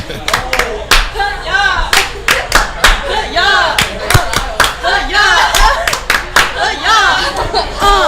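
Loud, close clapping at a sports talk show taping for the Cienega Bobcats girls' team, irregular bursts of hands mixed with chatter and laughter nearby.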